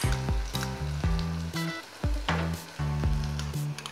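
Sauce for banana Manchurian sizzles in a hot pan, with loud close hissing and repeated clanking strikes and scrapes in an uneven rhythm, no talk.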